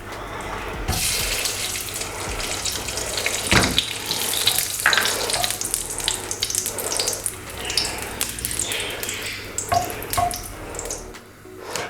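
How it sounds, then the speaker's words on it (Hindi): Green cardamom pods fry in hot ghee for carrot halwa, giving a steady, close crackling sizzle with bright spits and pops throughout and no voices. "अब हम इसमें इलायची डालेंगे और घी डाल के इसको लाइट ब्राउन करेंगे।"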